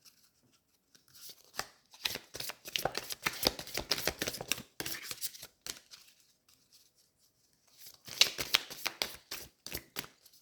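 Tarot cards shuffled by hand in quick bursts of dense papery riffling and flicking, close and fairly quiet, with a pause in the middle before a final short round of shuffling.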